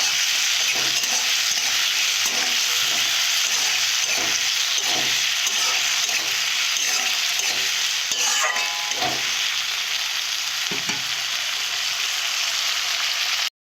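Peas and tomato being stirred in a pan for a fish curry, a loud continuous sizzle and hiss broken by regular scraping stirs, close up, with no voices.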